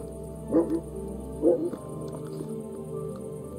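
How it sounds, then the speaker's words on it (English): A dog in Kingdom Come: Deliverance II gives two short, fairly close barks about a second apart over a low, steady game ambience. "You better call back that dog."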